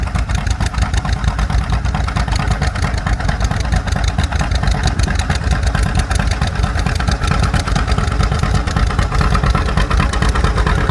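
Old John Deere tractor engine running steadily at an antique equipment plow day, a dense, continuous mechanical chug with rapid regular firing pulses, loud and close throughout with no pauses.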